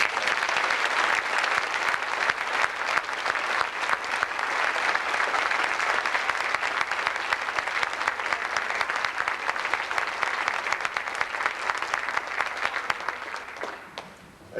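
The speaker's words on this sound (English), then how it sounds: "I'd ask that you please give them a collective round of applause." An audience gives a sustained round of applause for honored students. The dense, even clapping runs loud and unbroken for about fourteen seconds, then tapers off at the end.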